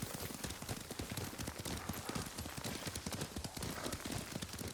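Horse hooves clip-clopping at a steady riding gait in the video game Ghost of Tsushima, a quick rhythmic stream of soft hoof beats heard fairly quietly.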